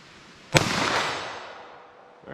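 A full-size revolver fires Winchester M1152 9mm rounds: one sharp, loud report rings out and decays, and the start of a second shot cuts in at the end.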